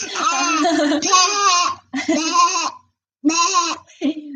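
A young child imitates a sheep bleating with several drawn-out, wavering baa cries in short bursts separated by brief pauses, loud and close.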